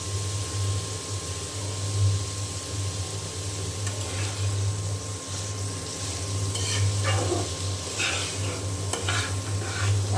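Vegetables fry with turmeric and salt in a pan under a low, steady sizzle. Scraping stirring strokes come in bursts, busiest near the end, over a faint constant hum.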